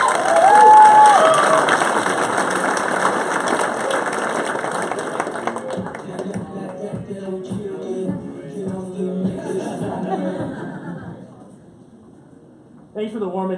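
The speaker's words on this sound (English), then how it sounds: "Give him a big round of applause." A demo-day crowd applauds and cheers as CEO and co-founder Raj is introduced; loud clapping and shouts open strongly, then thin out and fade to near quiet before a voice begins speaking at the end.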